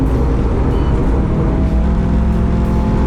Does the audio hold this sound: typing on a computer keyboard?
no